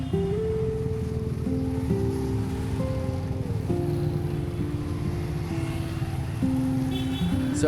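A canal in Da Lat swollen by heavy rain rushes loudly, a constant roaring wash of water. Steady tonal hums drift over it throughout.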